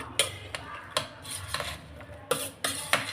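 A utensil stirs a chilled summer drink holding washed whole black grapes in a bowl, giving several sharp clinks and taps against the bowl spread unevenly over a few seconds, close by with no talking.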